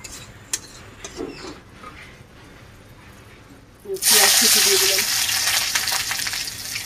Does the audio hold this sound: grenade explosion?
no